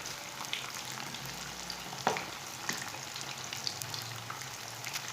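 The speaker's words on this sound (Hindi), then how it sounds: "मच्छी को ना एक साइड से मैंने 2 मिनट तक पका लिए हैं।" Fish sizzling steadily in hot oil in a pan, a continuous crackling hiss with a few sharper pops, close and fairly quiet with no one talking.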